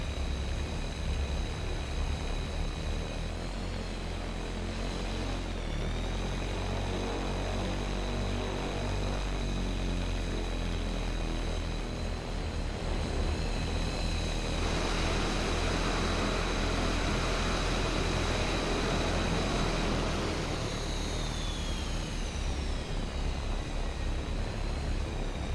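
Propeller drone of an Avro Shackleton, a four-engine piston maritime patrol aircraft, flying slowly in a flight simulator game; a steady, loud engine hum with tonal whine holds throughout, no voices.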